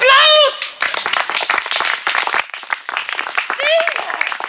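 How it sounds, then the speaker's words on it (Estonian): Lively clapping from a crowd at a summer camp on Saaremaa, Estonia, bursts in and continues for several seconds, with loud voices calling out over it at the start and end. "Aplaus!"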